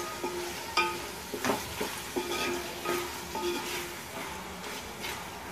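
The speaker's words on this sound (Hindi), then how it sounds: "बॉईल किया हुआ गोश्त तेल के अंदर डाल देंगे। गोश्त को अच्छे से फ्राई कर लेना है।" Boiled mutton frying in oil on a medium flame for Hyderabadi gosht achar, giving a moderate sizzle with intermittent stirring scrapes and soft knocks.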